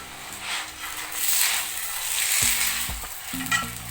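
Jaggery (gur) paratha frying in ghee or oil on a hot pan gives a steady, close sizzle, with a few soft scrapes and taps from stirring or turning. No one speaks.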